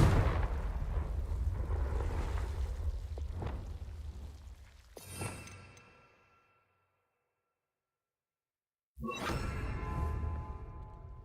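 A Confringo explosion spell in a video game sets off a loud, rumbling blast that roars for several seconds and fades into silence. A second sharp burst erupts abruptly near the end.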